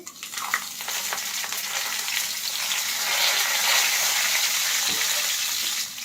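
Bay leaf, a cinnamon piece and cumin seeds sizzle steadily in hot oil in a pan for a temple-style Annakut vegetable dish, a loud continuous crackling hiss throughout.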